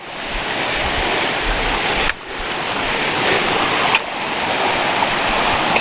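Ledbetter Creek on the Bartram Trail rushes steadily nearby, a dense, loud wash of flowing water that continues without pause.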